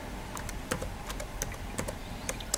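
Keys clatter on a computer keyboard in quiet, uneven bursts, with a few sharper taps standing out among the lighter clicks, heard close and alone.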